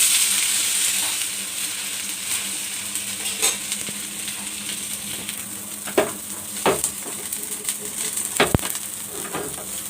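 Uttapam batter sizzles steadily in a hot pan after being flipped, with a constant bright frying hiss and a few sharp spatula clicks and scrapes near the end, close and fairly loud.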